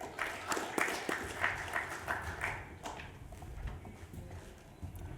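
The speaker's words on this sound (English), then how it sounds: "Can we have a warm round of applause for Mr. Eric Pinkerton" Scattered audience applause rises and fades at a security conference talk, moderately distant claps that thin out toward a few lingering hands.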